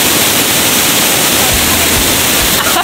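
A waterfall at Bagac, Bataan roars in a loud, unbroken wash of falling water, close and steady throughout.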